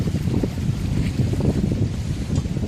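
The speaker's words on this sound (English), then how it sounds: "The wind's not very strong. It's blowing about 10 knots." Wind of about 10 knots blows across a sailboat at sea, a continuous broadband rush with microphone buffeting and water noise, steady throughout without speech.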